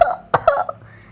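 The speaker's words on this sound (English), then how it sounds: "Susie Sheep and Danny Dog start to cough too." Children coughing in a storybook reading, several short harsh bursts in quick succession over about a second, fairly close and clear, followed by a brief throat-clearing sound and quiet.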